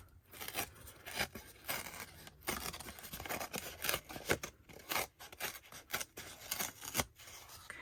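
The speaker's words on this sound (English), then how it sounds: "I'm gonna tear it in this direction so we get to see the layers" Layered art paper being torn by hand in a series of close, crisp ripping strokes, each tear a short scratchy burst with brief pauses between, and no voices.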